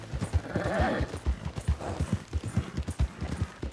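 Horse hooves clip-clop at a steady walking pace in Red Dead Redemption 2, close and distinct over a low outdoor ambience, with a faint whinny early on.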